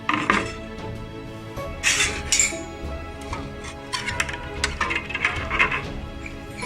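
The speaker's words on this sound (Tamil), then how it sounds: "இப்போ நம்ம இதில் போட்டுடலாம்." Brass pooja lamps and vessels clink and clatter as they are set into a pot of tamarind water, with several sharp metallic knocks and scrapes at irregular intervals.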